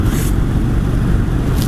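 A Harley-Davidson Sportster 883 Superlow motorcycle engine rumbles steadily while riding in Bangalore, a low, constant drone heard close from the rider's position with some wind noise and brief hiss at the start and end.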